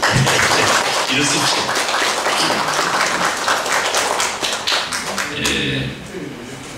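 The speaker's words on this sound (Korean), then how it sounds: "박수 한번 해주십시오" An audience at a Korean literary symposium held by a provincial writers' association claps for a visiting speaker, giving dense, steady applause that fills the room and fades slightly near the end, while a voice briefly speaks over it.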